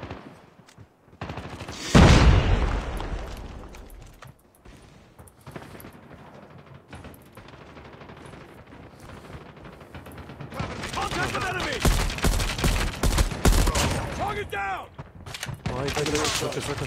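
Gunfire from the mobile shooter Call of Duty Mobile, with a loud burst near two seconds, then longer bursts of rapid shots later on, someone talking over parts of it.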